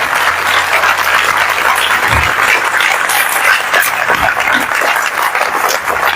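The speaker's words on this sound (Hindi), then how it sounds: "Give a good clap for the" A church congregation claps in praise of the Lord Jesus, with sustained, dense applause filling the room at steady loudness, with no voices over it.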